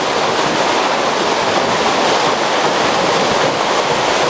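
Water at a spring source serving a community water supply rushes steadily, a loud, continuous broadband wash close to the microphone with no talking.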